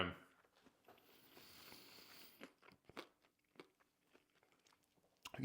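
Dry-rub chicken wings are chewed with crisp, crunchy bites, several sharp crackling crunches spread irregularly and close, with faint rustling in between and no talk.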